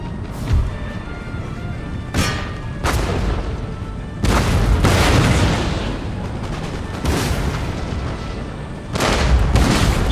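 Repeated booming volleys of musket fire from camel gunners in the battle game Total War: Empire, loud and close, with several heavy blasts spaced a second or two apart over a continuous rumble of battle.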